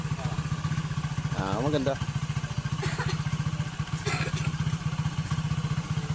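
A motorcycle engine putters close by with a fast, even low thrum while riding, after the clutch and gearshift were worked on, as people talk over it.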